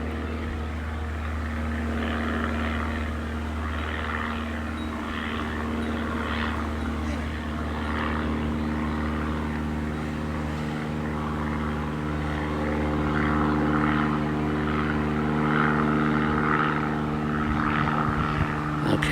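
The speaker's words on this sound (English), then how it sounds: "I can hear that plane now" A propeller airplane droning steadily overhead, a sustained engine hum that slowly swells louder over several seconds with faint voices underneath.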